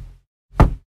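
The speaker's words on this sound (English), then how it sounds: "And it's the sound of Chris punching the ceiling of his car." A fist punches the inside ceiling of a car: a soft thump followed by one loud, dull whack, close and short, with no voices.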